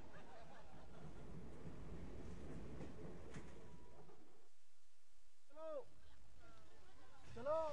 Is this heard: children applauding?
no